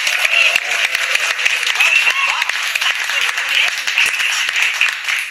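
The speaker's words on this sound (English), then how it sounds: "Please give a round of applause for Amelia Hempleton Adams and her explorer" Studio audience applause fills a television chat-show studio, a dense steady wash of many hands clapping at full strength throughout, with some voices faintly mixed in.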